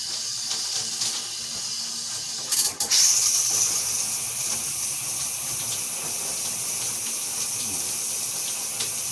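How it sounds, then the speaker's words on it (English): A low-flow 1.8 gallon shower on its lowest spray hisses steadily nearby, a soft continuous wash of falling water with a brief louder burst partway through. "I put on the lowest spray right now."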